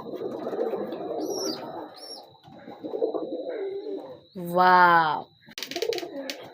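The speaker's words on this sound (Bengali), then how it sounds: "দেখছেন গাইস কত সুন্দর কবুতর" Pet pigeons coo in soft, repeated throaty phrases close by, with one louder, drawn-out call near the end, while a person speaks intermittently between them.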